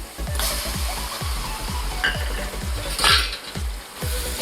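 Mutton coated in turmeric, mutton masala, coriander powder and yogurt is stirred in a sizzling pan, with repeated scraping strokes of a spoon against the metal over a steady frying hiss, close and fairly loud.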